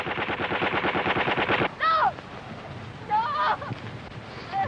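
Gunfire in a 1937 film scene: a rapid, even burst of machine-gun shots, then silence, then short whistling, warbling tones, with faint murmuring in the background.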